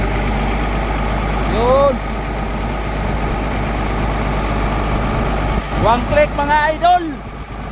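A Kobelco-style 220 LC-95 excavator diesel engine idles steadily in a loud, close, continuous rumble, with someone talking over it at the end.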